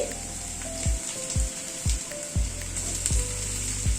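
Pumpkin pieces sizzle and fry in a pan over lightly fried onion on medium heat, with a steady frying hiss broken by several sharp clatters and thumps of stirring, close and alone with no talk.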